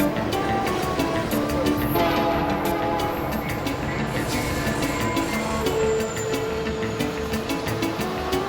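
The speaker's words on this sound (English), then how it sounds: "Our train continues through the mountains into the night." A passenger train rolls through mountainous country, its steady rumble and rail noise continuous and fairly loud, with faint squeals and clicks rising above the drone throughout.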